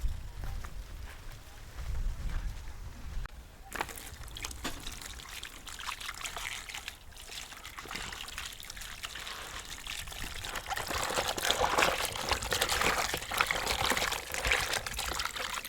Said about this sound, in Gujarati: આ બધું વ્યવસ્થિત ધોઈ નાખીએ આપણે, કારણ કે ધૂળ બૂળ ઉડેલી હોય.